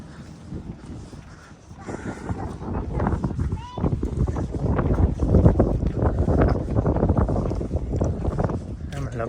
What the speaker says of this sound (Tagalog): Pangalawang araw na mahangin.